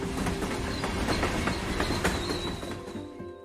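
A train rolls past with steady clickety-clack of wheels on rails and faint metallic squeals, a dense continuous rumble that eases slightly toward the end.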